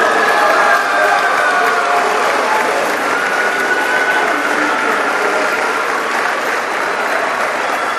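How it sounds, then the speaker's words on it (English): An audience applauds at a high school valedictory ceremony, a loud, steady wash of clapping from a large crowd in a hall that holds for about eight seconds without a break. "Let's just hold the applause until the end."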